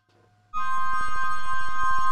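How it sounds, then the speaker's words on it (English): A bright granular synthesizer tone swells in after a short quiet start, its very fast arpeggiated notes repeating so rapidly they blur into one shimmering, sustained chord. "It's really just a very fast arpeggiation."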